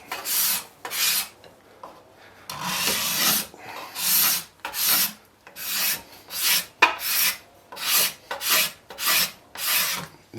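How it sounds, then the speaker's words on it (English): A card scraper strips old varnish from a wooden dining chair in a rhythmic series of about a dozen rasping scrapes, each stroke a loud, close, gritty rush separated by short pauses, with no talking. "I'm going to use the card scraper just to take a little bit of wood"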